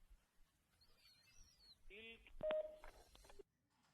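A telephone keypad sends a quick run of DTMF dialing tones, faint and close, following a thin whistle-like tone, with a brief voice sound nearby.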